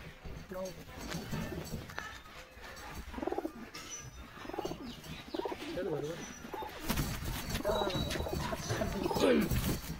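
A tournament pigeon coos softly in low repeated bursts while its wings are painted, with someone talking close by through most of it.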